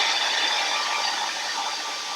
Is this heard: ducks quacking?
no